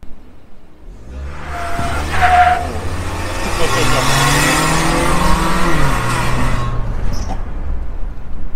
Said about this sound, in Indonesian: Kita coba nih sekarang dari diam, traction control matiin, ininya dikasih deh.